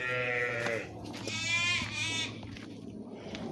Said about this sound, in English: Oh, and there's the sheep.